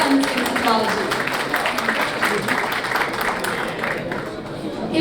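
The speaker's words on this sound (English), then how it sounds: "let's have a round of applause for Sanjji." At an American Punjabi Society evening event, an audience claps for an introduced speaker, a moderate wash of applause running under a voice talking throughout.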